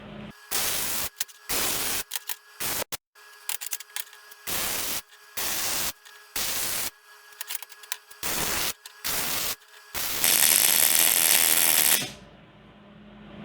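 Wire-feed welder laying beads on a steel chassis table, crackling and sputtering in short bursts of about half a second to a second with gaps between, ending in one longer, harsher run, loud and close.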